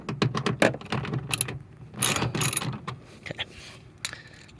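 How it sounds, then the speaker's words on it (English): Socket wrench with an extension backing out bolts on the right rear door panel of a 2022 Kia Sportage, giving bursts of quick ratcheting clicks and metallic clinks, close, with short pauses between. "I'm just gonna use the socket and the extension to back each of these out."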